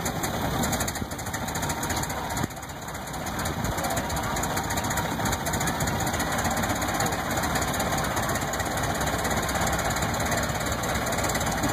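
A 1913 Studebaker engine runs after the spark is advanced and some gas is given, with a steady, close, chugging and rattling idle rumble at an outdoor car show.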